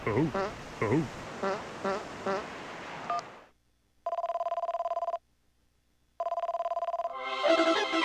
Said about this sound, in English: I didn't expect the phone to ring.